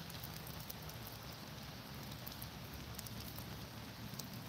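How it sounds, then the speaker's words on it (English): Rain falls on a tent by a duck pond in the Smoky Mountains, a faint, even patter and hiss that continues without a break, and no one speaks. "It's a rainy day today."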